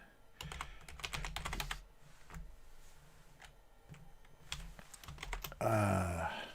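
Keys on a computer keyboard clatter in quick bursts of typing separated by short pauses, close and fairly quiet, with a brief rougher noise at the end.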